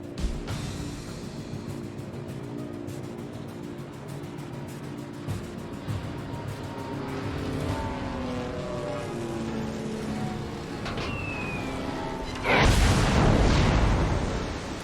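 Carrier aircraft in the World of Warships game fly an attack run, a steady engine drone and rumble with scattered distant booms, swelling into a louder roaring burst near the end.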